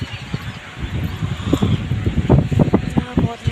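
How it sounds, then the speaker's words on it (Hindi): Strong wind blowing outdoors, rushing steadily and rattling and rustling loose things nearby in a constant, fairly loud roar with scattered knocks. "बाहर देखिए दोस्तों कितने भयंकर हवा चल रही है"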